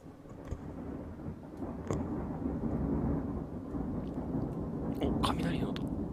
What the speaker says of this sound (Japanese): お、雷の音来てんね、